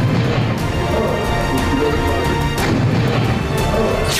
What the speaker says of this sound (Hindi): ग्रेनेड फटने की आवाज आप सुन सकते हैं।